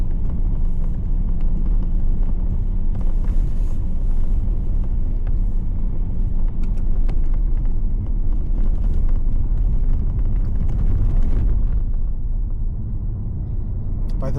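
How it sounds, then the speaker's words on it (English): An SUV drives along rough, tricky roads near Glenorchy, New Zealand, giving a loud, continuous close rumble of engine and tyres with rattling and crunching from the uneven surface throughout. "Even if you have an SUV car, like we have now, the roads are a little bit tricky."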